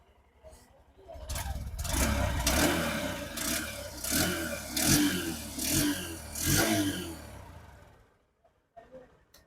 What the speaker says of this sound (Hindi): तो ये इसका एग्जॉस्ट साउंड था, साइलेंट स्टार्ट होती है।